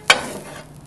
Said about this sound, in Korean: 이렇게 해서 도라지를 볶아주시고요.